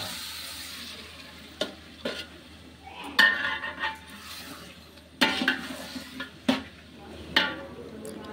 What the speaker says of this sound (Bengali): প্রথমেই আমি আলুগুলোকে একদম ফ্রাই করে নিচ্ছি ভালোভাবে